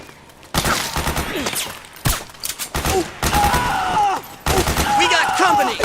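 Bursts of automatic gunfire in the military shooter Metal Gear Solid 4: Guns of the Patriots, loud repeated volleys in several clusters broken by brief pauses, with shouted voices mixed into the battle.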